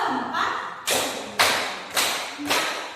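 Hand claps during a classroom concentration clapping game, four to five evenly spaced sharp claps in a steady beat, close and loud, each with a short room ring.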